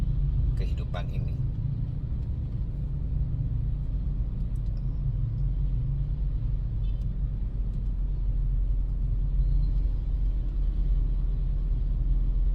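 Car traffic in a traffic jam, a steady low engine rumble close by throughout with faint rattles, idling and slow-moving vehicles, no voices.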